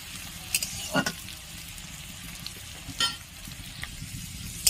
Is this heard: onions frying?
yes